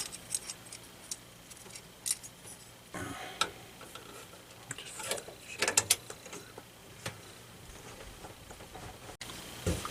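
Small screws being turned in by hand while fitting a CPU cooler into a PC, giving faint irregular clicks, ratcheting ticks and scrapes, close up with quiet pauses between bursts.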